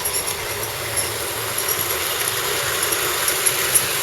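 A Bachmann Hall Class model locomotive runs along the track, a soft continuous whirring rattle of motor and wheels with slight irregular clicks, fairly quiet and close, with no voices.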